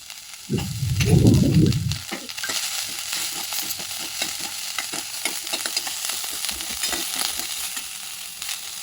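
Chopped vegetables with ginger, garlic and spring onion stir-fried on high flame for a winter soup: a loud burst of sizzle as they hit the pan, then continuous frying with a rapid run of scraping, tapping stirs.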